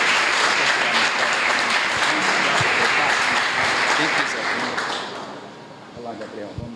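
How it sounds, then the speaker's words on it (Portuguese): A church congregation at a Nazarene service applauds, a thick wash of clapping that holds strong for about five seconds and then fades away, leaving quieter room sound with a few faint voices. "Vamos aplaudir ao Senhor."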